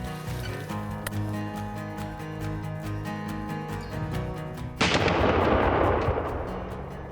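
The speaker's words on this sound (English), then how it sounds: "The only thing left to do is to shoot this shotgun and make sure it's holding a good pattern." A single loud, sharp shotgun blast, fired from about 30 to 35 yards to test its pattern, breaks through a steady humming, tonal background near the middle of the clip and then trails off in a brief rumbling decay.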